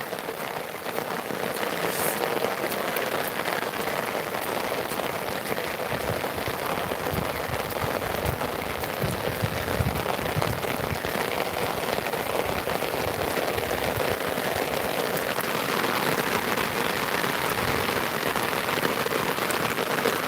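Steady rain in Tirunelveli patters densely on surfaces, a continuous close hiss of drops that holds evenly throughout with no talking.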